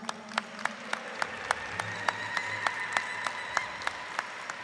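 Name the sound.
audience applause for drum groups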